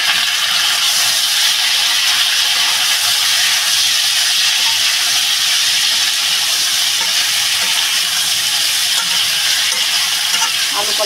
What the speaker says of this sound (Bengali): আমি আলু কলাটা ঢেলে দেবো।